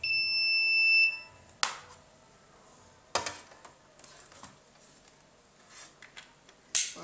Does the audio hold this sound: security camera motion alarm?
yes